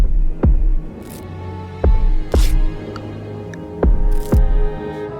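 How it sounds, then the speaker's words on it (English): A heartbeat in RimWorld thumps in deep paired beats, three double pulses spaced about two seconds apart over a faint low hum. "You can hear her heart beating."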